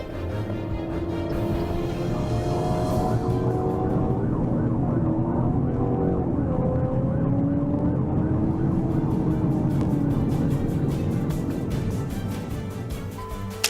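A police car's wailing siren sweeps up and down continuously over road and engine noise during a pursuit of a Ford Mustang, loud and sustained for the whole stretch with no talk.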